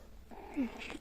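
Indoors, a mother cat that has lost her kitten gives a short, faint, mournful cry, one rising and falling wail over a quiet background.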